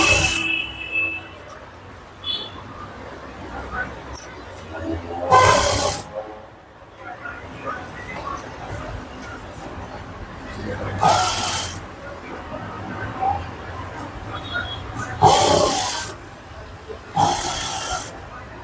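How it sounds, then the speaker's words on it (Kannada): Sewing machine edge stitching a child's blouse: short bursts of whirring stitching, each lasting about a second and separated by quieter handling and background noise, heard close. "ಟರ್ನ್ ಮಾಡ್ಕೊಂಡು ಎಡ್ಜ್ ಸ್ಟಿಚ್ ಹಾಕೊಳ್ಳೋಣ."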